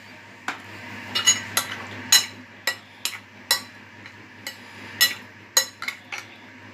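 A spoon mixes chicken marinade in a bowl, giving about a dozen sharp clinks and scrapes at an uneven pace over a faint steady hum, with no talking.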